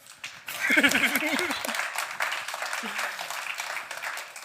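An audience at a showcase livestream breaks into applause that rises quickly and carries on steadily, with voices and laughter sounding over the clapping near the start.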